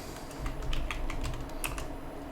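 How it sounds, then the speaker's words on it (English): Soft clicks of computer keys come in an irregular run of several taps, close and fairly quiet over low room hum. "They're going to press M on our keyboard."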